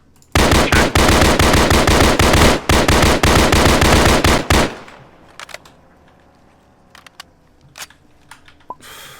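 Gunfire in ARMA 3: a loud, rapid burst of shots for about four seconds, then a few scattered distant cracks over quiet background.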